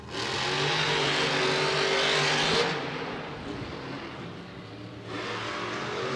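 Monster trucks Mohawk Warrior and Zombie rev at the start line of a Monster Jam event inside The Dome at America's Center in St. Louis. A loud, roaring engine blare fills the arena and then drops back to a quieter rumble before surging again.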